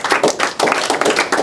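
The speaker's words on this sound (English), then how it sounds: "let's give Mr. Ramsden a big round of applause" A lecture audience claps for a speaker, with close, loud, uneven hand claps in bursts and no speech over them.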